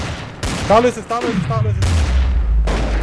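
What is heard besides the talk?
gunshots in the video game Trouble in Terrorist Town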